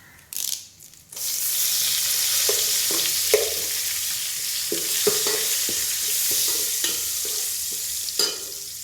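Fresh curry leaves hit hot oil for a tempering, setting off a sudden loud, steady hiss after a brief clatter, with occasional spoon taps over the sustained sizzle.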